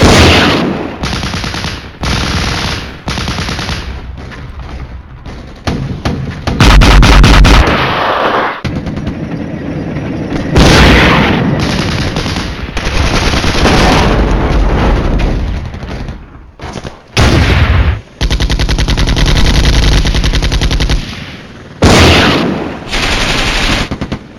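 Gunfire and explosions as tanks are destroyed in the video game Flashpoint Campaigns: dense, loud, continuous battle noise with repeated booming blasts and sustained firing, broken by a few brief gaps.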